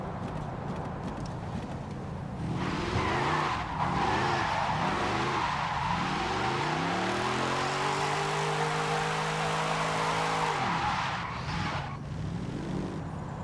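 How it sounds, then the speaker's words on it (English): A V8 sports car in Forza Horizon 5 revs hard through its gears, its growling engine note rising in stepped harmonics, then tires skid and squeal loudly across the middle section before the engine settles back. "Man, this V8 sounds nice."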